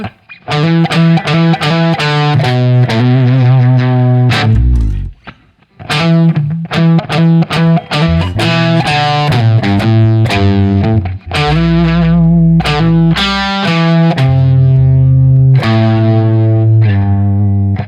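Loud, heavily distorted electric guitar through a Marshall amp playing sustained chords and riffs, thick and saturated with a brief pause midway.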